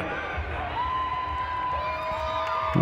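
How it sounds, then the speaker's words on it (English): Roller derby crowd at a Mad Rollin Dolls bout cheering and whooping after a grand slam, a steady wash of shouts and whistles sustained throughout, loud and close. "the crowd goes wild"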